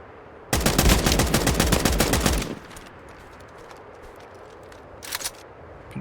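Gunfire in the video game Escape from Duckov: a loud, rapid, sustained burst of shots lasts about two seconds, then after a lull a second, brief and quieter burst follows.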